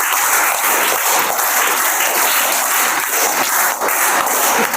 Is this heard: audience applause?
yes